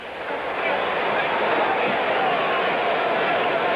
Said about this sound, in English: Crowd, nobody's left this ballpark.